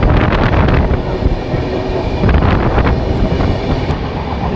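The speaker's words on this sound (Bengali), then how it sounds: "এখান থেকে ট্রেন বেশ ভালো স্পিড নিয়ে নিয়েছে" Uttarbanga Express picking up speed while still alongside the platform, a loud, steady rumble of wheels with clicking rail joints and wind buffeting the microphone throughout.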